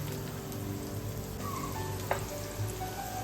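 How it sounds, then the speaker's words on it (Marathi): Garlic sautéing in a little oil in a pan, a steady close sizzle with faint scrapes and ticks of stirring, moderately loud and alone without talk. "पॅनमध्ये थोडंसं तेल घेतलेलं आहे आणि नंतर त्यात जो लसूण आपण घेतलेला तो छान ती आता इकडे परतून घेते"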